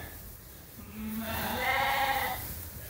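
Lambs in a pen bedded with new straw, one close, drawn-out bleat rising out of low barn background noise.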